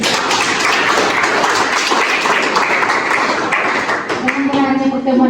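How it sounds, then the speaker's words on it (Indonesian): Clapping from an audience at a nursing academy's lecture session, dense and steady for about four seconds, then thinning out, with a voice starting to speak near the end. "mari kita tepuk tangan untuk pertemuan kita hari ini"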